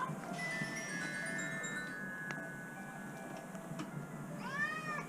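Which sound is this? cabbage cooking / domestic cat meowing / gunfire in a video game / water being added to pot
domestic cat meowing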